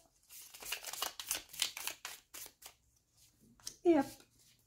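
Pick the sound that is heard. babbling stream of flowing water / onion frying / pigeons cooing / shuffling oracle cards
shuffling oracle cards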